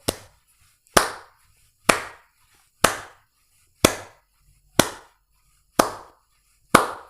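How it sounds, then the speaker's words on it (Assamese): Eight single, sharp hand claps land at a steady pace of about one per second, each crisp and close, with near silence between them. "প্ৰতি ছেকেণ্ডত যদি আমি এনেকৈ হাত চাপৰি বজাওঁ"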